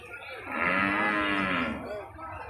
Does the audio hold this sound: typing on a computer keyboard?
no